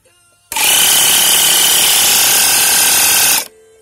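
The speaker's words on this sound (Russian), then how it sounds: "Вот тут вот этот тумблер, это ж вот включать компрессор" A small compressor switches on at a homemade fuel injector test stand. It gives a loud, harsh, rattling drone that starts abruptly, holds steady for about three seconds, then cuts off.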